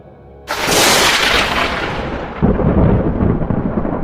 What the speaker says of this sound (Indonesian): Petir menggelegar dari tubuhnya, menghantam tanah di sekitar mereka.